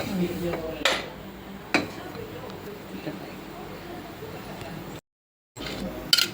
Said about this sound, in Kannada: ಕುಕ್ಕರ್ ಇಡಬೇಕು